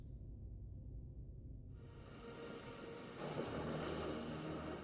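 Steady rain falls at night, a dense hiss that swells louder partway through, with no voices.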